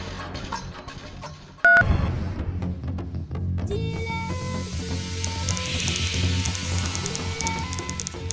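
Telephone keypad tones beep in a quick series as a number is redialed after a busy line, over a steady, busy background.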